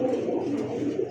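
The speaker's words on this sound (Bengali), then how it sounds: "সুন্দর সাপ চোখের কবুতর গররা" Pigeons in a breeder's sale loft, including a snake-eyed bird, give a brief, close, low cooing drone from more than one bird, with no talking.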